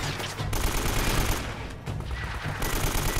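Gunfire in the video game Uncharted: Drake's Fortune comes as dense, rapid bursts of automatic fire with a couple of brief gaps, loud and continuous over about three seconds.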